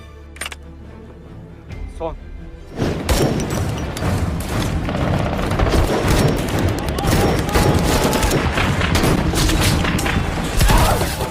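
A film battle scene against ISIS fighters at a last fortress erupts into dense gunfire and booming explosions after a quieter opening, with a narrator's voice running over the din.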